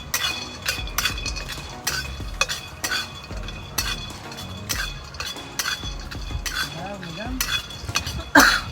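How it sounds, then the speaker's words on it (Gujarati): Cashews, almonds and pistachios roast in a hot kadai, a steady patter of nuts shifting under repeated scraping and stirring strokes, with occasional sharp clinks of a spoon against the metal; faint talk sits low beneath it. "કડાઈ ગરમ થઈ ગઈ છે હવે આ કાજુ બદામ ને પિસ્તા ને બધું અંદર નાખી દઈએ"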